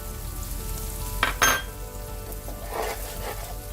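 Okra sizzles in a pan with cooked potatoes, a steady frying hiss with a couple of clinks from a utensil against the pan.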